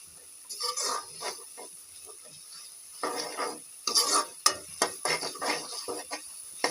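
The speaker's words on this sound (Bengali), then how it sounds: "এবার মশলাটাকে ভালো করে কষাতে হবে, কিছুক্ষণ সময় নিয়ে ভালো করে কষাতে হবে।" Spices being stir-fried in a pan for chotpoti, with intermittent scraping and stirring scrapes and a light sizzle, close by, coming in irregular bursts.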